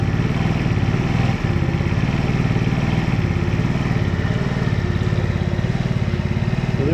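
A brand-new Chinese 50cc scooter engine idles close by after warming up, a loud, steady putter with a pulsing rhythm and a slight clattery rattle, no voices.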